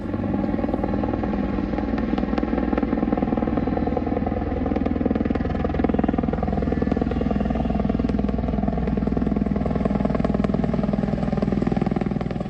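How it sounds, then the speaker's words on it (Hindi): An Apache attack helicopter lands in Kishtwar, Jammu, its loud, steady rotor thrum and engine roar filling the whole stretch at close range without talk. "सोमवार को जम्मू के किश्तवाड़ में पहली बार अपाचे की पराक्रमी लैंडिंग हुई।"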